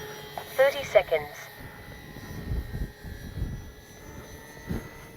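An Avios Twin Otter RC model airplane flies with a steady, droning engine tone that carries through the whole stretch. A person talks over it.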